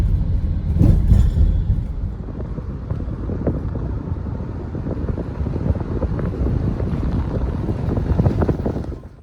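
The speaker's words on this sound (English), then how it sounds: "I feel like I'm just driving down a normal road." Car driving down an ordinary-looking road toward a zoo entrance in York, Maine, with a steady rumble of road and engine noise mixed with wind buffeting the microphone throughout.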